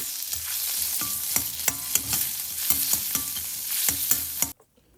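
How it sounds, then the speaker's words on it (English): Pork belly browns in hot oil in a pan, a steady close sizzle broken by regular scraping stirs, until the sound cuts off abruptly near the end. "So you're going to want to just brown your pork belly."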